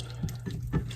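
Water splashing into a pan of browned ground beef with taco seasoning, three short soft pours or splashes over a faint steady hum, quiet and close.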